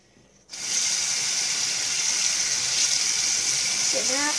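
A bathroom tap turns on and runs in a steady loud gush of water to rinse off face cleanser, continuous and close, with a brief voice near the end.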